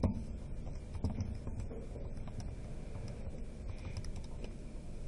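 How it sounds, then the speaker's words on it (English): Numbers typed in, likely on a calculator, give light scattered taps under a steady low background rumble, faint and close, with no speech. "Type that all in."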